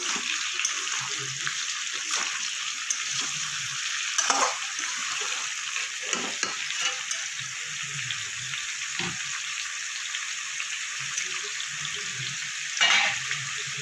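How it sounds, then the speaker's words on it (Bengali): Ridge gourd and potato pieces frying in a pan for a curry, giving a steady, close hiss of oil with brief louder sizzling bursts and occasional stirring, with no talk. "ঝিঙে আলুটা কিছুটা আমি ভাজা ভাজা করে নিয়েছি।"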